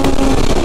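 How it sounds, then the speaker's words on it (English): A truck passes close by on a road, a loud, steady engine roar that fills the short moment without any talk. "but there's a truck."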